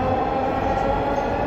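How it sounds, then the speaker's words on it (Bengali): A Dhaka metro train rumbles past at a station, a brief loud, steady low roar filling the moment. "দেখুন আরেকটি ট্রেন ওদিক থেকে চলে আসছে"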